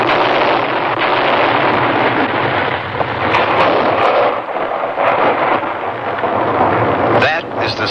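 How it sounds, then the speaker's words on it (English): A United States Forest Service artillery team fires to clear an avalanche in the Colorado Rocky Mountains, making a loud, sustained rumbling boom that echoes and rolls across the mountains for several seconds. "That is the sound of a United States Forest Service artillery team clearing an avalanche in the"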